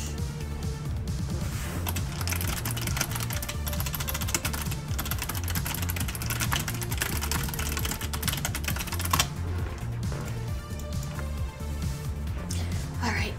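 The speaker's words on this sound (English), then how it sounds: "Typing is very foreign." Fast typing on a computer keyboard runs steadily under continuous game music and sound effects during a Final Fantasy XIV raid, with a voice talking over it.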